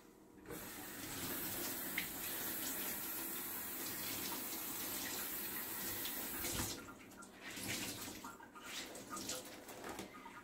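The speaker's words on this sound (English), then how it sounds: "So I'm going to wet this towel." Water runs steadily from a kitchen tap onto a towel being wetted for sourdough baking, a continuous close hiss that shifts and splashes unevenly toward the end, with faint birdsong in the background.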